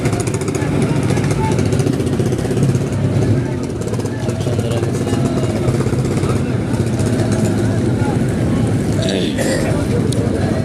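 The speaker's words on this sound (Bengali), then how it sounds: "এই যে বড় টলারে টলার একের পর এক আসতেছে" Large trawler boats arrive one after another, their engines a loud, continuous chugging thrum close by, with people talking over the noise.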